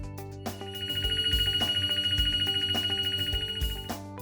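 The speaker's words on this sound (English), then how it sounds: "When the baking time has counted down to 0, the baking is finished and you will hear an audible signal." A Sveba-Dahlen baking oven sounds its end-of-bake signal, a steady electronic tone that rings for a few seconds with a fast pulsing warble, faint and alone.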